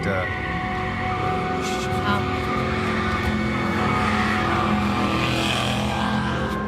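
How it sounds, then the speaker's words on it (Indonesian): A car speeds away along a dark road behind a television reporter, its engine a steady loud roar with tire noise throughout, heard close and continuous beneath the broadcast sound. "Saat mobil melaju dengan cepat"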